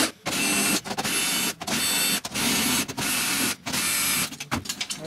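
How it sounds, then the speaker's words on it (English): A cordless drill fitted with a drum key bit whirs in repeated bursts while loosening the lugs on a snare drum, each sustained buzz separated by short pauses and quick stops. "It's just a drill bit drum key and slick."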